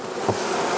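Honey bees hum at an opened hive during feeder setup, a dense, continuous buzz heard close up with no talking.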